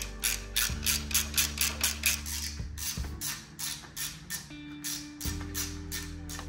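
A ratchet turns bolts through a tail tidy licence plate holder on a Yamaha R7 motorcycle, giving steady repeated clicking strokes close by, with tonal creaks between bursts over background music and no talk.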